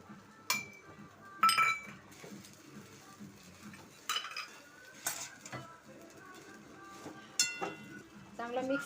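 Sabudana khichdi stirred in a pan, with a spoon clinking and scraping against the metal in irregular sharp knocks over a faint background sizzle, while a voice talks softly in between.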